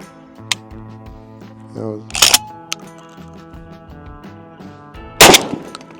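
A Mossberg 990 shotgun fired from the hip at an outdoor range, sharp blasts ringing out amid clicks and clatter from handling the gun, against a steady background hum.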